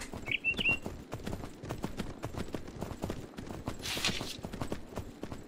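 Horse hooves clip-clop steadily while riding in the video game Myth of Empires, a continuous rhythmic trot with a brief chirp early on and a soft rushing burst near the end.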